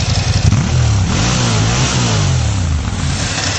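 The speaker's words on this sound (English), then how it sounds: "That V-twin, it's industrial sounding, it's evil" A Ducati Monster 1100 V-twin motorcycle engine revs loudly up close, with a deep, pulsing exhaust note that rises and falls through several throttle blips, standing alone without talk.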